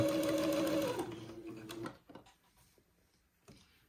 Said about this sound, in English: And sew a little hem.